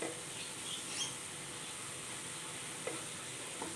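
Jackfruit thoran being stirred in a pan, a soft steady sizzle with a few faint scrapes of the spoon, quiet and close, with no voices.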